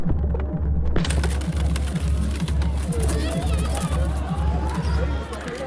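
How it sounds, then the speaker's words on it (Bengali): White pigeons coo repeatedly at a busy pet market, a steady pulsing low coo close by under a background murmur of crowd and voices, with people talking nearby. "দেখুন একদম হেলদি সাদা পায়রা, কালার খুব সুন্দর"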